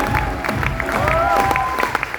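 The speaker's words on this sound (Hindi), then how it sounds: "जोरदार तालियां" A crowd claps steadily in a burst of applause during a speech in Patna, mixed with cheering voices and a sustained musical tone.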